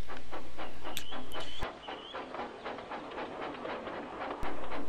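A steam engine chuffs in a steady rhythmic beat, with clanking rail noise and a sharp hiss near the end.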